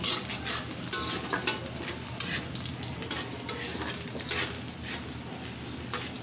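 Spices frying in oil in a pan before broken rice goes in make a continuous bright sizzle, with repeated scraping stirs and light utensil knocks throughout.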